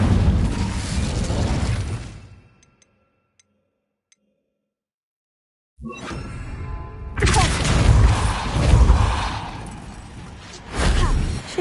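The Incendio fire spell in Hogwarts Legacy goes off as a burst, then about three seconds of near silence, then a roaring whoosh of flame that swells and crackles loudly.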